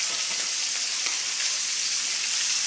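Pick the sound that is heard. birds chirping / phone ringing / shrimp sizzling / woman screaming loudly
shrimp sizzling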